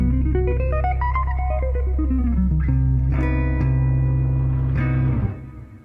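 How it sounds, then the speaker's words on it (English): Electric guitar plays a diminished major 7 arpeggio with effects and echo, notes climbing and falling in a quick run, then several sustained chords ring out loud and alone before stopping. "So one of my favorite modern S sounds to use is the diminished major 7, which sounds like this."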